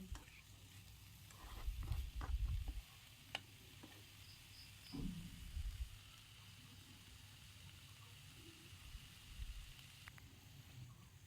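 Potatoes and cauliflower sauté in spice paste in a pan, giving a quiet, low sizzle with intermittent stirring and scraping bursts against the pan, close by and without any talking.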